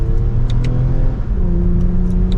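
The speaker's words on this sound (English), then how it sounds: "So if we downshift in sport mode," A 2024 Toyota Camry TRD's 3.5 liter V6 blips its revs on a downshift in sport mode, a loud steady engine drone with a brief pitch shift in the middle, heard from inside the car.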